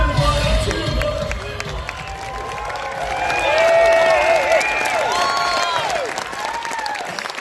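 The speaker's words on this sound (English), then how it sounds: "Great live crowd with us." A large live crowd at a motoring show cheers and applauds steadily, dense clapping and whoops swelling in the middle, with raised voices and an amplified voice carrying over the noise.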